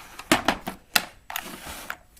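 Keys clack on a Unicomp EnduraPro buckling spring keyboard, a handful of loud, sharp, irregular clicks in a quick burst, close up and with no talking.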